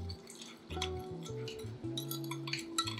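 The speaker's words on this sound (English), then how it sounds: "I'm gonna go ahead and mix it a little bit so it kind of dissolves" Spoon clinking against a bowl while stirring fish sauce and sugar together to dissolve, a series of light, close metallic taps and scrapes in an irregular rhythm, with no talking.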